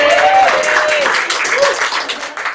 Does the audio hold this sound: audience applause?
yes